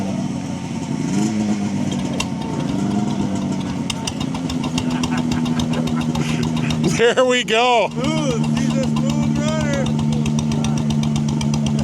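A vintage four-stroke snowmobile engine idles at a show with a steady low putter, partly masked by a louder machine nearby. People talk over it briefly.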